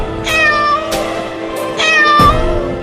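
Loud, close meows from an angry mother cat, three drawn-out wailing cries in quick succession with harsh, agitated tone, and no talking.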